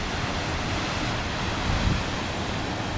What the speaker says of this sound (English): the water's coming out between through this concrete